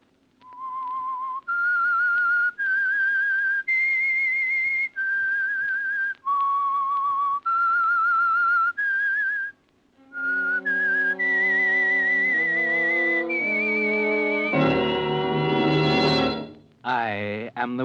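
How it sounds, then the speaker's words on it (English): Whistled theme tune of The Whistler, a 1946 radio mystery show, a clear melodic run of sustained notes rising and falling, followed by an orchestral swell with no talking. "That whistle is your signal for the Signal Oil Program"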